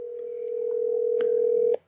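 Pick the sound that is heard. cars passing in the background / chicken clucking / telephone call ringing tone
telephone call ringing tone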